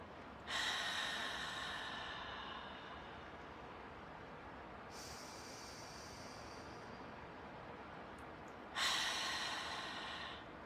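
Slow, deep breaths are taken as a relaxation exercise, with a long airy inhale, a held pause, and another breath starting near the end. Soft and close, with no talking.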